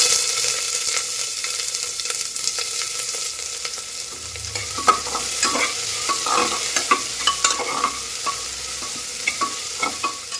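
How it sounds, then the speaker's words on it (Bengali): Steady crackling sizzle of onions frying in a pan, with scattered spatula scrapes and clinks throughout, close and fairly loud. "তো পেঁয়াজটা ভাজা ভাজা হতে থাক"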